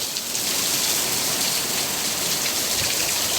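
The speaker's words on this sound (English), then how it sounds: "It won't stop raining, man." Heavy rain pours down in a dense, continuous hiss with steady spattering and no voices.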